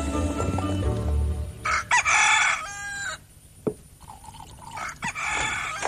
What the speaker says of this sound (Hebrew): איך אפשר לישון כשהוא מקרקר?